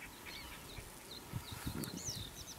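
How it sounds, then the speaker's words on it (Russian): Birds call beside a small stream in remote backcountry: faint, high chirps and short whistles repeat over a soft, steady hiss, with a few low thumps close by. "Ну, птички кричат."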